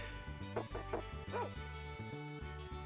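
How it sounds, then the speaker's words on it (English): A dog barks in the retro role-playing game Tales of Phantasia, giving a few quick yips over looping background music. The barks are faint and come in a short burst. "A dog?"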